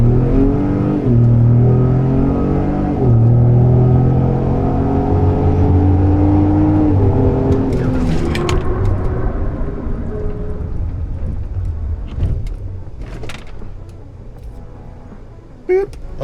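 A 500+ hp 2020 Ford Raptor fitted with Baer big brakes and heavy 110-pound wheel and tire combos does a hard 70-to-0 mph stop: loud engine and road roar falling steadily in pitch as the truck slows, fading toward a near stop.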